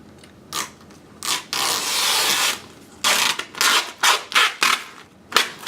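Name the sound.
pulling excess vinyl wrap film away from knifeless tape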